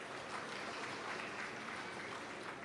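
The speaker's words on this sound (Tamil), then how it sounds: "உண்மையிலே புத்தகம் வாங்கினவங்களுக்கு ஒரு பெரிய கைத்தட்டல் கொடுங்க." A crowd at a book fair breaks into applause, a dense, steady wash of clapping that sounds distant and faint.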